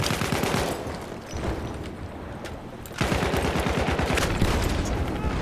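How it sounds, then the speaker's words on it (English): Shotgun fire in Battlefield 1 multiplayer: loud, close shots in rapid repeated succession, thinning briefly mid-way, then resuming as a dense barrage, with no voices over it. "Oh, it's a shotgun."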